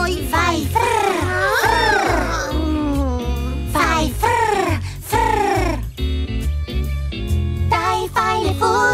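Animated cartoon characters imitate a cat's purr with rolling, trilled voices, singing and chanting in Italian over bouncy children's music.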